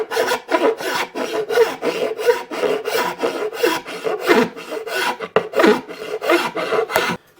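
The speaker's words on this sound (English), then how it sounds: "we just need to kind of gently take the file and clean that off." Steady rasping file strokes scrape leftover waste material off the wooden body of a thinline bass guitar, close and moderately loud, in an uneven rhythm of repeated pushes with brief gaps.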